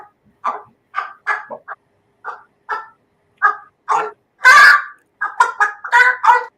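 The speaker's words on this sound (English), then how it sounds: "And then we have a chicken." A recorded chicken clucks in playback: a run of short, separate clucks with pauses between them, then a louder squawking burst and a quicker cluster of clucks near the end. No one talks over it.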